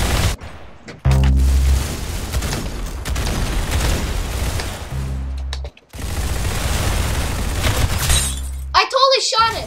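Loud, rapid gunfire crackles almost without a break in the Roblox video game. A couple of brief gaps interrupt it, and a short, sharp burst of other game sound comes at the end.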